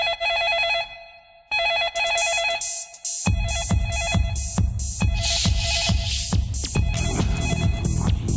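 A telephone rings in bursts of bright repeated trills before a thumping, throbbing beat takes over and a steady rhythmic pulse fills the rest.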